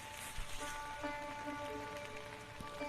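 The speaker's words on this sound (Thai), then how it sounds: "ฝนตกฝนตก" Steady rain falls outdoors, a dense constant patter with scattered drops, while a voice speaks over it now and then.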